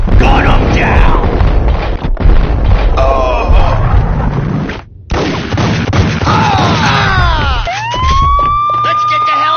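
Police sirens wail in the Max Payne video game, a rising and falling tone that comes through toward the end over a dense, loud mix of gunfire-like booms and shouting voices.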